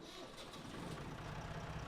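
In Farming Simulator 17, a tractor engine idles in a low, even rumble that hums continuously at moderate loudness with no talking over it.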